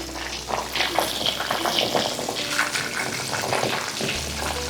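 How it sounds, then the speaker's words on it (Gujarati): Corn sizzles steadily while frying in hot oil, a continuous close bubbling hiss with crackling bursts that runs evenly throughout. "આમ તો 2 થી 3 મિનિટ સુધી સતત મકાઈને રાખીશું તેલમાં તો એ પાકી જ જશે"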